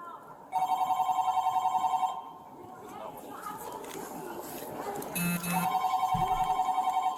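A telephone rings in a police station during a standoff, repeated electronic trills that stop and start again, loud and near, with voices talking over them.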